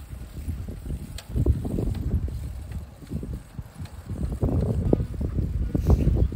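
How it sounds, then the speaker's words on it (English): Loud, continuous wind buffeting a microphone while riding a bicycle outdoors on a windy day, rumbling gusts that rise and fall without pause and no talking. "Christ, it's windy"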